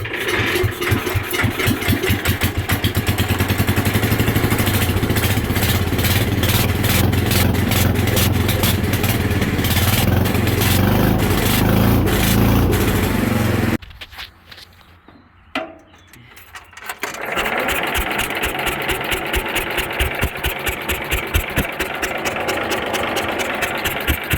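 A Cub Cadet garden tractor being built as a pulling tractor runs loudly with a steady, rapid engine chatter, drops out briefly to near silence midway, then picks back up and runs on.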